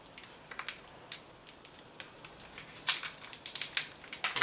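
Apple TV remote packaging being unwrapped: sparse, crisp crinkles and snaps of plastic and paper close by, quiet at first, then a denser burst of rustling toward the end.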